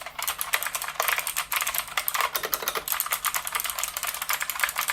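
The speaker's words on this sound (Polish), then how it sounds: "I taka jest właśnie głośność tej klawiatury." Rapid typing on a Savio Tempest RX Full mechanical keyboard with clicky Outemu Blue switches, close up, a dense run of sharp clicks with no talking.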